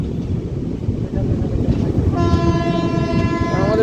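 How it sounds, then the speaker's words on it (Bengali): Malda-Howrah Intercity Express pulling out of a station, a deep rumbling roll of the train, then a loud sustained horn joining over the rumble near the end. "আমাদের ট্রেন এখন ছাড়লো"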